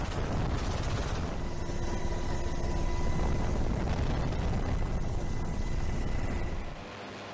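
A US Marine light attack helicopter flies during live-fire training and aerial patrol over the Hawaiian Islands, a steady, loud rotor and engine roar that holds for about seven seconds before dropping off near the end.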